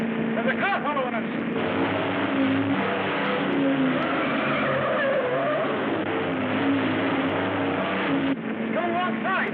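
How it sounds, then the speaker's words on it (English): A car speeding in a chase in a 1939 film, heard as a continuous roaring engine drone with a brief tire squeal, loud and unbroken throughout. "There's a car following us!"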